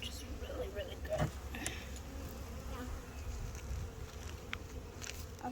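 Honey bees buzzing around hive frames during a hive inspection, a steady close swarm drone with individual bees whizzing past the microphone, plus occasional light handling knocks.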